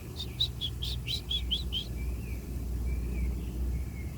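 Small birds chirp outdoors in a quick run of about eight bright, close tweets, followed by softer, thinner calls over a low background rumble, with no voices.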